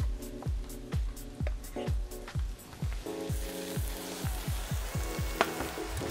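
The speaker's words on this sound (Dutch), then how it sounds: "Onze champignons voor het garnituur zijn aan het bakken." Mushrooms for a garnish fry in a pan with a soft sizzle, broken by a regular series of sharp scraping or tapping strokes, fairly quiet and close.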